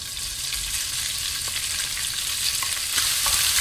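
Minced meat sizzles and crackles steadily in olive oil in a large frying pan over high heat, a dense, continuous fry close up with faint stirring scrapes and no talking.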